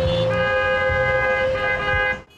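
Car horns honking in a street, with several overlapping sustained toots from vehicles forming a loud continuous blare that drops away abruptly near the end.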